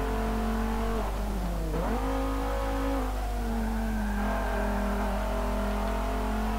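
Car engine in Forza Motorsport 7 during a race, a loud continuous engine drone rising and falling in pitch as gears shift and the car brakes and accelerates through corners, with no talk.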